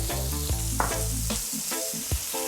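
Chopped onion frying in olive oil in a pan over medium heat, giving a loud, close, steady sizzle with bursts of stirring and light scraping throughout.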